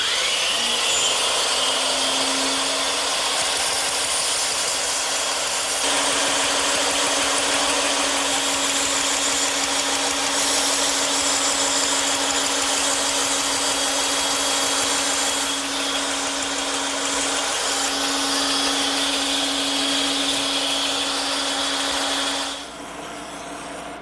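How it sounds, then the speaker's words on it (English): A bandsaw cuts a column profile from wood in one long, steady, loud whir with a constant motor hum, close and unbroken for over twenty seconds before easing slightly at the end; nobody speaks. "now I just have to take that over to my bandsaw and cut it out"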